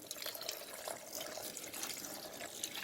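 Water pours steadily into a pot of soup with coconut cream, a soft splashing trickle, faint and continuous, without any talking.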